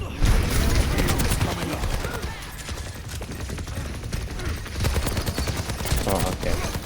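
Rapid video-game gunfire from the Soldier hero in a team shooter, dense bursts of automatic shots throughout, loud and close, with game effects layered underneath.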